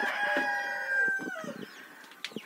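Roosters crow and hens cluck in a farmyard where chickens and guinea fowl are being fed, with a long drawn-out crow up close followed by short clucks and calls.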